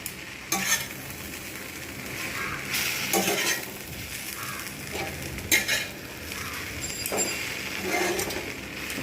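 Chilli powder and cumin powder are stirred in a pan for bread pulao, a spoon scraping and clinking steadily against the metal over a soft sizzle, with a few louder knocks and no voices.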